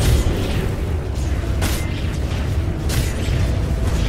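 Dota 2 tower under attack and collapsing: loud, dense booming and crackling impacts layered with continuous battle noise, with sharper bursts standing out near the middle and later on.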